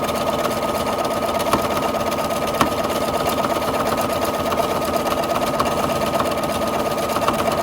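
A sewing machine stitches steadily during free-motion quilting, its needle producing a fast, even mechanical hum and rattle that runs on without a break, close and moderately loud.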